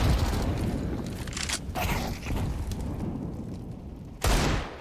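Counter-Strike: Global Offensive gunfire from a competitive match: dense, loud rounds of shots and booms crowd together, with a sharp burst near the end, all without speech.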